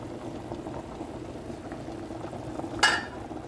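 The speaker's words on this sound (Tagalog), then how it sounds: "Kulong-kulo na ang tulya natin." Clam soup with spinach and onion bubbles in a pot on the stove, a steady low simmering rumble with soft bursts, followed by a single brief clink of a utensil near the end.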